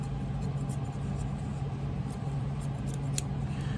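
Scissors snip through excess leather trimmed from a hand-tooled antique floral piece, a series of quiet crisp cuts over a low steady background hum, with no talking.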